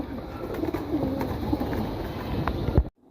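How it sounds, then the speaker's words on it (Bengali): A male pigeon, red-feathered with a green neck, gives low, soft cooing phrases close by, repeated over a quiet rustling background before the sound cuts off abruptly. "এই হচ্ছে একটা নর কবুতর"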